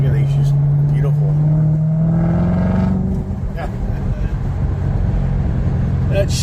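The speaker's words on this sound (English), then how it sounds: "And it's all about that exhaust note." A Chevrolet Corvette engine revs up with a rising, throaty exhaust note, then settles into a steady rumble while a person talks over it.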